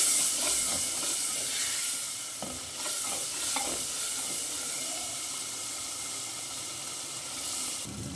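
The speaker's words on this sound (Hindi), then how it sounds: "अब इसकी अच्छे से भुनाई कर लेंगे कि सारे मसाले भून जाएं।" Turmeric and coriander powder fry in hot oil for a moong and masoor achari daal, a steady loud hiss and sizzle with a few soft stirring scrapes near the start.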